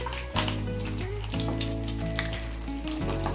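Sabudana vada is dropped into hot oil and immediately sizzles and bubbles steadily, close and clear, with a few soft splashes as pieces go in.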